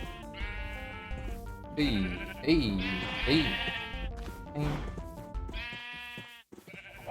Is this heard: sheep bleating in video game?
yes